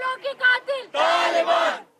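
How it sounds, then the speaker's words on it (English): Protesters outside a mosque in Islamabad chant in four short, sharp bursts, followed by a longer sustained collective shout, loud and close. "The crowds demand vengeance"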